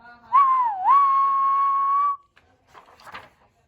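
A toy train whistle toots once in a sustained, clear tone of about two seconds that dips briefly in pitch near its start, followed by faint rustling.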